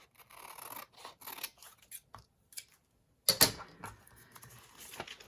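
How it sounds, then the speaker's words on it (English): Scissors snipping through a printed book page for a collage: a series of close, crisp scratchy cuts in short bursts with pauses, one sharper snip in the middle, quiet and without talk. "I'm going to use my scissors because I don't want to tear the purple off."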